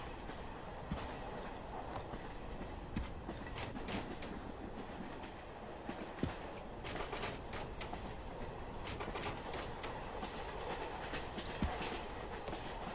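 A moving train is heard from inside a car: a continuous rumbling roar with recurring clickety-clack wheel beats over the rail joints, steady throughout.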